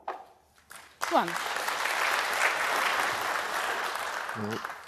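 A smattering of applause breaks out from the crowd at a professional snooker match and goes on as steady, moderately loud clapping for roughly four seconds, then fades as a commentator begins talking.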